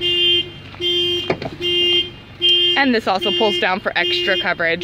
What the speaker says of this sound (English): I apologize for the beeping in the back.